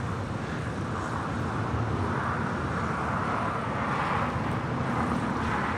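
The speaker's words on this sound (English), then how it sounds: "That flight coming in from Las Vegas, flight 2698 on this A320." An Airbus A320 arriving from Las Vegas comes in to land at LAX, a broad steady jet roar that swells gradually and stays loud and continuous throughout.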